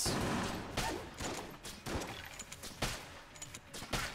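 Crossbow shots in the bullet-hell game Enter the Gungeon, sounding as a series of sharp, punchy firing bursts at irregular intervals amid busy game effects, moderately loud and close.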